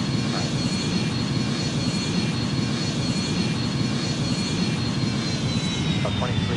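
Airliner jet engines roar steadily through a takeoff roll in a flight simulator game, a broad, constant rumble that holds at even loudness, with radio-style talk now and then.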